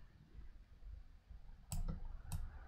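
Two sharp computer mouse clicks a little apart near the end, close and crisp over quiet room noise, while using Alpaca 4D structural analysis software.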